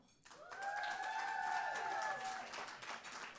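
An audience at a township awards ceremony breaks into applause, a burst of clapping that swells quickly, holds for about two seconds, then tapers off, with a few voices calling out over it.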